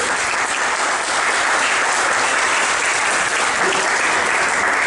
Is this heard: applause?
yes